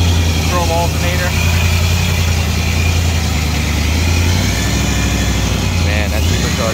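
A supercharged flathead V8 in a 1949 Mercury Coupe idles steadily and close by, a low, even rumble that holds for several seconds with a brief blip near the end.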